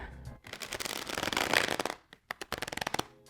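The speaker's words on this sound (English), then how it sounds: "So I like to riffle shuffle." Quick riffle shuffles of a card deck: a crisp fluttering burst swelling then settling, followed by a series of sharp taps as the cards are squared, close up.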